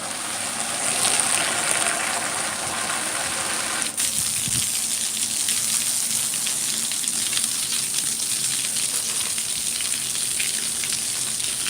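Steady broadband gush of water pouring from a garden hose at feeding time, continuous and fairly loud throughout, with a brief thump partway through and no talking.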